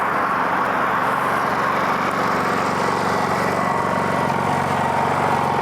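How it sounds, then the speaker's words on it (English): A gas-powered generator runs at a steady, loud drone with an even engine hum and a buzzing rattle, constant throughout without pauses or voices. "But I gotta go over here and reset the generator."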